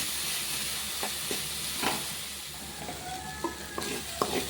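Ponnanganni greens sauté in a pan with a steady hiss and sizzle, broken by scattered spoon scrapes and stirring knocks against the pan.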